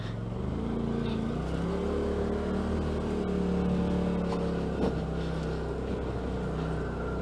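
A 2018 Polaris RZR Turbo engine with an Assassins S2 clutch kit and Tusk Terrabites tires idles along at about 3,500 RPM at walking pace, a steady close droning hum with slight pitch wavering and no talk.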